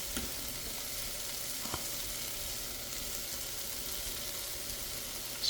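Cornstarch sprinkled into a pan of cooked-out ribeye steak drippings gives a steady, moderate sizzle and fry with a couple of soft clicks, no talking.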